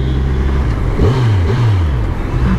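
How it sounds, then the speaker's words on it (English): A KTM 390 ADV single-cylinder motorcycle on its stock exhaust revs hard nearby, giving two quick rising blips over a steady, loud idle thrum. "390 ADV single cylinder and who gets bored with this sound, guys?"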